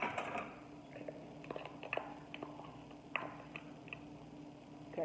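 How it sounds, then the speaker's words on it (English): A fork whisking an egg frittata mixture in a bowl, faint irregular light ticks and taps against a quiet background. "And then I'm going to whisk with the fork."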